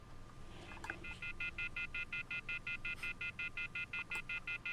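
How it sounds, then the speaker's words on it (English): A phone keypad being dialed, giving a quick, steady run of about fifteen evenly spaced tone beeps, close and clear with no talking. "Let's dial it, shall we?"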